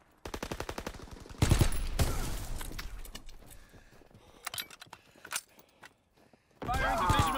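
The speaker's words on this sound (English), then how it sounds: "Firing division artillery." Gunfire in Call of Duty WWII, rapid automatic bursts and sharp reports, some loud and close, others scattered and sparse, ending in a dense volley of fire.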